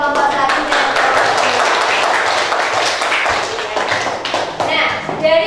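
A classroom of children claps for student groups after an experiment, a dense, steady patter of many hands filling the room with a few sharper taps near the end.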